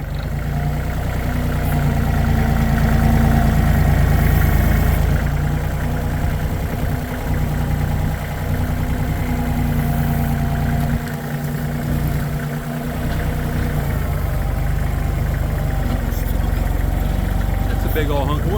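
A mini excavator engine running continuously, a steady loud mid-pitched idle with slight load changes and clanks, close by, with someone talking over it at times while working outdoors moving firewood.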